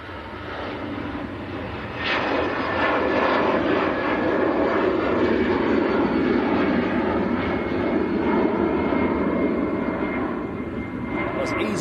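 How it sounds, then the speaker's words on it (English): An easyJet Airbus A320 bound for Hamburg roars on takeoff at Manchester Airport, a loud, broad jet rumble swelling and holding steady before easing slightly, with voices talking over it. "That was EasyJet to Hamburg in Germany, an A320."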